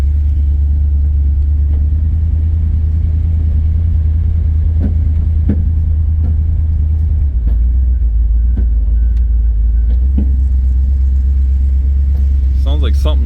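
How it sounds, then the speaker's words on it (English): A 1982 Pontiac Trans Am with Crossfire Injection, parked for 30 years, creeps along with a dragging brake. A heavy low engine rumble drones throughout, with occasional clunks and scrapes, and someone talks over it. "Sounds like something's dragging her loose."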